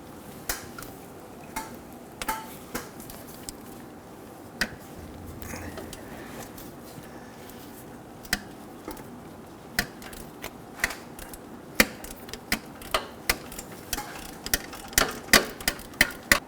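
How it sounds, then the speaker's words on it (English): Rapid clicking of a ratchet with a 10mm socket and extension loosening bolts on the catalytic converter of a 2011-2021 Jeep Grand Cherokee 3.6L V6, sparse ticks at first, then quicker, louder bursts of clicks toward the end. "use our 10mm and our extension with our ratchet"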